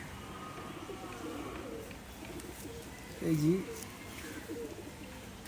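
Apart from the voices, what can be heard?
imported Madrasi pigeons cooing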